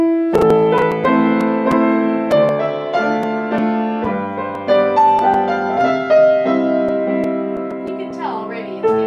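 Piano notes ring on with the sustain pedal held down, so each new note piles onto the last and the harmony blurs into a muddy, echoing wash over about nine seconds of steady playing.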